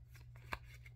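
A single quick flick of a sealed Pokémon Lost Origin booster pack, one soft papery snap near the middle of a brief, quiet stretch with low background hum.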